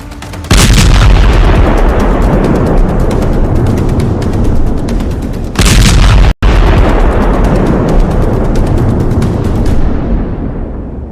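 An explosion from a Houthi attack in the Red Sea gives a very loud, continuous roaring blast. It lasts several seconds, cuts off briefly, then surges again before fading out.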